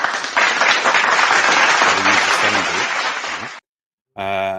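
Audience applause fills the room for several seconds, dense and steady, with a voice rising through the clapping near its end before it cuts off; a short burst of talk follows after a brief gap.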